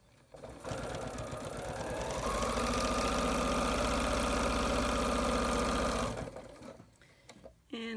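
A sewing machine stitching fabric pieces together runs in one steady, loud whirring burst of several seconds, then stops, and a voice is heard briefly around it.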